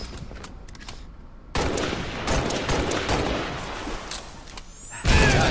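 Needler and grenade fire in a Halo match, a close, dense burst of rapid shots and crackling impacts with a sharp blast near the end, over continuous game noise.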